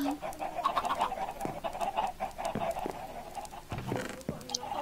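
Chickens clucking in the video game Don't Starve Together, played with a mod, a busy steady run of short clucks and bird calls with faint talk underneath.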